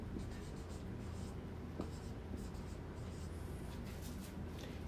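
Chalk or marker scratching across a board during a Hindi-language English grammar lesson, a quiet, steady rubbing stroke with short pauses and faint room noise.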